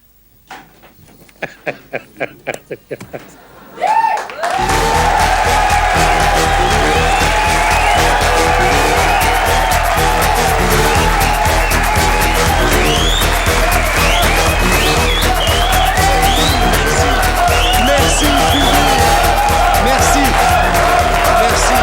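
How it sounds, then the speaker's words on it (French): A French television studio audience claps in scattered bursts, then breaks into loud, dense, unbroken applause that keeps going, with voices talking faintly underneath. "Il s'arrête plus d'applaudir aujourd'hui"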